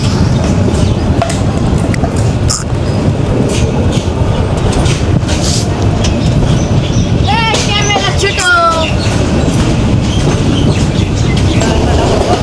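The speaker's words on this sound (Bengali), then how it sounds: "দুর্দান্ত গতি নিয়ে ছুটে চলেছে আমাদের ট্রেনটি" Loud, continuous rumble and rhythmic clatter of the Agnibina Express passenger train running along the tracks toward Nurundi railway station, with a brief squeal of wheels midway.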